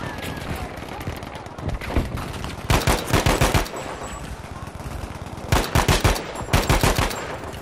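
Rapid machine-gun bursts from Battlefield 5 come in tight clusters, loud and close, separated by quieter stretches of softer shots and battlefield noise.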